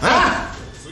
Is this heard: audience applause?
no